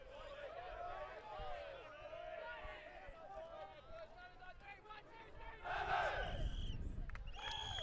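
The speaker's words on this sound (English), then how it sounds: "And Wildcats cheering and getting themselves ready to go." Ultimate frisbee team at a men's club tournament game shouting and cheering together before a point, a crowd-like burst of yells swelling loudly near the end over steady field noise.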